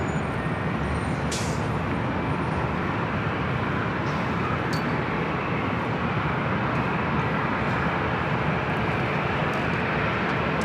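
A jet airliner, Alaska Airlines flight 527 at LAX, roars as a loud steady broadband rush that fills the whole stretch without letup, with no voices over it.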